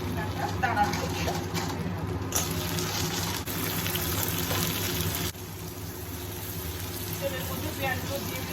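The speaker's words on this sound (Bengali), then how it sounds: "তেলের মধ্যে দানা দিচ্ছি।" Spices or seeds tossed into hot oil in a kadai during crab and potato curry cooking, giving a steady broadband sizzle and crackle that runs through the whole stretch, with a voice talking over it.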